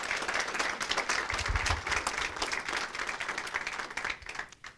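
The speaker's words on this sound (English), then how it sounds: "let's give Kim a round of applause" A council meeting audience gives a round of applause for Kim, dense steady clapping from a crowd close by that carries on for several seconds before thinning out.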